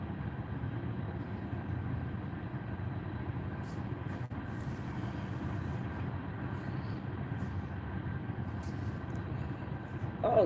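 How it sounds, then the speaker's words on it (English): Steady low rumble of a train passing nearby, holding level throughout the stretch with faint higher clatter on top and no talk over it. "Oh, train's going by."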